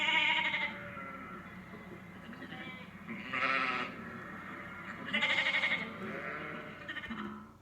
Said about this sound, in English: If you said it was a sheep,